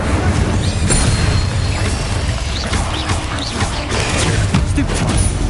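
A fire spell cast in Hogwarts Legacy, with a dense, roaring burst of flame and booming impacts that fill the whole stretch loudly, with no pause.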